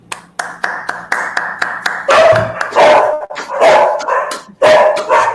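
Several dogs bark loudly and repeatedly over a steady patter of clapping hands after a master's thesis defense, the barks overlapping in the second half.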